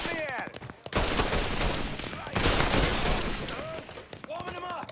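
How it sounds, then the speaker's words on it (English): Gunfire in the video game Mafia III Definitive Edition comes as dense, loud bursts of rapid shots in two long volleys. Shouting voices break through between the bursts and over them. "I think we're getting shot at!"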